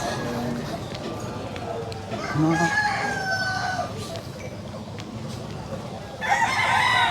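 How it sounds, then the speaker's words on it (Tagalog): Fighting gamecocks crow a few times, one after another, over the murmur of a crowded outdoor livestock market with voices talking in the background. "Dito naman mga manok panabong."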